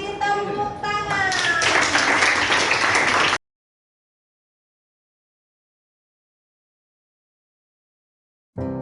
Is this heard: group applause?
yes